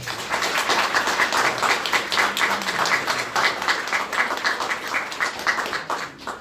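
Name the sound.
wedding guests applauding the couple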